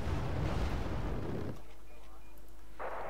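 Shots fired at enemy units in Wargame Red Dragon, a heavy rumbling blast that fills the first half and decays into a low hum, followed by a fainter burst near the end.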